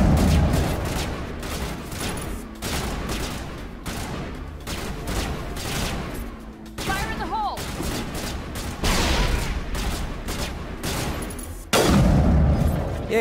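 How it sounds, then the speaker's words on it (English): A grenade detonates during a Mass Effect firefight, with dense rapid gunfire, booming blasts and scattered game effects running loud and continuous for the whole stretch, and a sharp burst near the end. "Yay, I finally used a grenade correctly."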